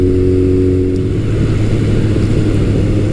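A Kawasaki motorcycle engine with a finely tuned carburetor idles loudly and steadily up close, a continuous low throbbing rumble.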